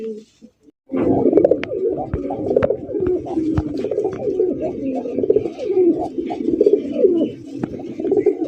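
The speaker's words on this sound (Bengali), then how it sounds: "এটা আমাদের দেশীয় গোল্লা কবুতর ভাই" Native Bangladeshi Golla pigeons coo steadily in low, throaty warbles, a dense overlapping chorus close by after a brief quiet start.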